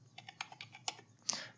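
A computer keyboard tapped out in a short burst of separate key presses while a password is entered into a locked Microsoft Office file, ending on a firmer final keystroke; close and fairly quiet.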